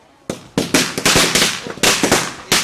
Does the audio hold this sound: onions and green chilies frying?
no